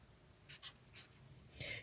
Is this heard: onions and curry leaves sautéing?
no